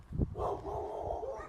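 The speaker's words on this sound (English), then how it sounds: "excuse me for these dogs, I'm running through their territory real quick." Dogs in their territory barking and yipping as someone passes by, faint and distant, starting with a short thump and then a steady stretch of barks.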